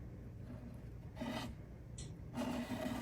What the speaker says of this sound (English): So I apply the modeling paste with a palette knife